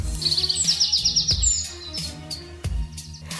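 Small bird, a species with dozens of kinds found mostly across the Americas, calling in a quick series of high bright chirps and trills alongside other softer sounds, clear and fairly close.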